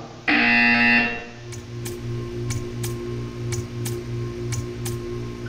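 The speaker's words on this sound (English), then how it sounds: "You will hear a buzzer. When you hear the buzzer," A loud electronic buzzer from the game Portal 2 blares for about a second, followed by a steady low hum and a series of regular ticking clicks.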